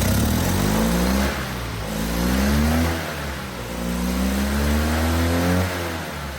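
Small old car engine catching and revving: a loud, close mid-pitched engine note climbing in repeated rev bursts, falling back between them, with rough low rumble underneath and no talking.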